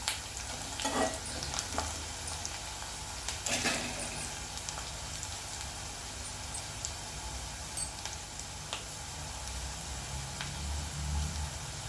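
Onions frying in a pan for chicken gravy, a steady dense sizzle running throughout with occasional stirring clicks and scrapes, fairly close and even in loudness; no talking.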